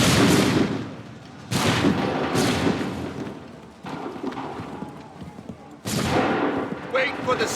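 Gunfire volley in Assassin's Creed 3, with several loud sharp bangs, each trailing off into a long rolling decay, spaced a second or two apart over a dull background rumble.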